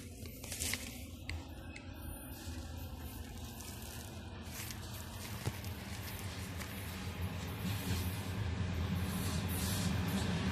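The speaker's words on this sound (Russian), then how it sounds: "Грузовой поезд." Freight train rolling past at Churilovo in Chelyabinsk, a steady low rumble of wagons with rattling and hissing, growing slightly louder toward the end, heard alone without talk.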